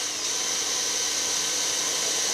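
A sharp drill bores out spot welds on the cab of a GMC truck, a steady high whine held at constant pitch, loud and close, with no talking.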